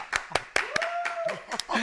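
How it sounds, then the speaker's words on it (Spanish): A few sharp claps ring out close by as a podcast guest is welcomed, mixed with excited voices and a rising whoop during a brief, lively moment. "Un fuerte aplauso para Eva"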